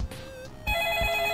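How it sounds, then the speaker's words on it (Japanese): A telephone rings inside a video game about searching a house for hidden cup noodles, with a steady electronic bell tone starting partway through and sounding clearly, without talk. "電話。"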